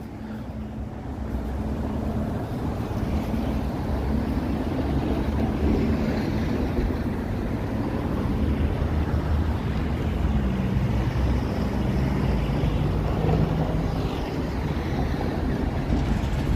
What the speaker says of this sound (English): Kind of a cold, blustery day.